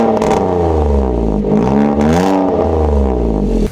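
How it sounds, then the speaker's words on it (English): A car with a single mid-exit horn exhaust revs hard up close, a loud raspy roar that rises and falls in several pulls over a few seconds. "Then also have a single exit, mid exit, horn exhaust, which is, I show you under here, you can see is very, very nice, which sounds a little bit like this."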